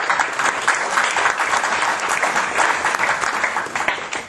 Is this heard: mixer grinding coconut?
no